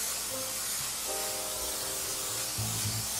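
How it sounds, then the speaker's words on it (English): Cooking spray hissing steadily onto a pan while nuggets are being prepared, a continuous close spray lasting about three seconds with no talking. "I'm gonna spray this pan"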